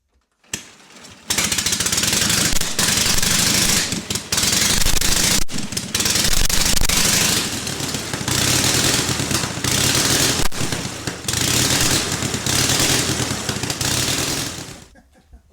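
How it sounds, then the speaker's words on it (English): A 1909 Indian motorcycle engine catches and runs, a loud, rough, rapid chugging that holds steady for over a dozen seconds close by, with brief dips in the firing before cutting off. "Got the 1909 Indian running."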